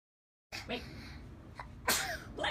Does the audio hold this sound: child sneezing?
yes